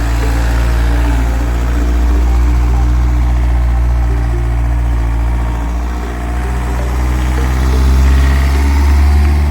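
A 1999 Volkswagen Caddy with the 1.9 SDI diesel idles close by, a loud, steady low rumble with a constant mechanical hum that swells slightly near the end.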